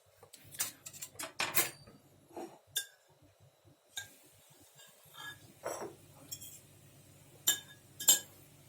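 Metal spoon scraping and clinking against a bowl while slicing into firm homemade village-style yogurt, a series of sharp irregular clicks and taps with quiet gaps between them, close and clear.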